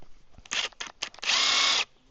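A battery-powered impact driver loosens lug nuts at a campsite in short bursts, two or three quick whirring pulses and then a longer sustained rattling run, close and fairly loud, with no talk.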